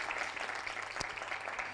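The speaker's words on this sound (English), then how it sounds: "Please give him a round of applause as he comes up" Audience at a Nairobi environmental diplomacy symposium applauding a panelist: steady, fairly quiet clapping from a crowd, a continuous patter with one sharper clap standing out midway.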